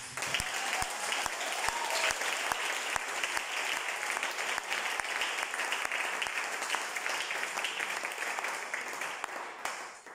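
A church congregation applauds together: dense, continuous clapping from a large crowd filling the room and holding steady for about ten seconds before easing off slightly at the end.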